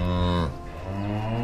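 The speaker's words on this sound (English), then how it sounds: "cow." A cow gives one long, loud, close moo with a deep droning tone that dips and rises, filling the whole short clip alone.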